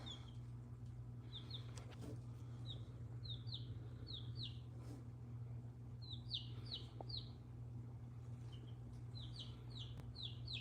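Baby chickens peeping in repeated quick bursts of high, chirpy calls over a constant low electrical hum, moderately close and fairly soft.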